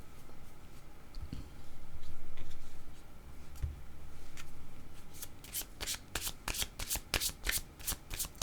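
A deck of cards for a card reading is shuffled close by, first as a soft rustle and then as a rapid run of crisp riffling flicks that builds toward the end.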